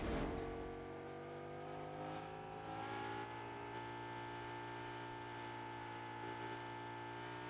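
A car drives in Fortnite, its engine holding a steady, even whir with layered tones that shift slightly in pitch. The sound is continuous and fairly quiet, with no talking.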